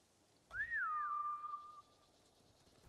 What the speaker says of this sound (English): That's a loud whistle.